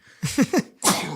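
A single person's sneeze in a podcast studio, a couple of quick voiced gasps building up before one sharp, close, forceful burst, heard alone with no talk over it.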